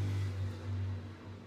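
Traffic drones through an open window of a hot flat, a low steady engine rumble from a passing car, faint and distant.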